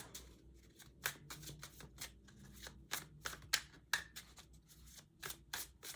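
An oracle card deck is shuffled up close, giving a steady run of quick papery riffles and flicks over several seconds, with no talking.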